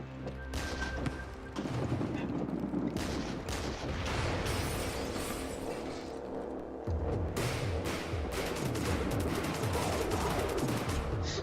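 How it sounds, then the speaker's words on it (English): A neurotoxin weapon fires in a video game as a dense, continuous barrage of rapid shots and booming blasts, loud and close throughout, mixed with a steady tonal game soundtrack. "let's shoot neurotoxin"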